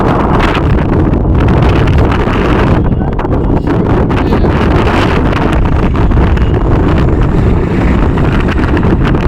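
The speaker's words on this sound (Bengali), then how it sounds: "এখানে অনেক বাতাস, আপনারা একটু বাতাসের সাউন্ড অনুভব করুন" Strong wind blows outdoors, roaring and buffeting the microphone loudly and continuously with gusty surges throughout.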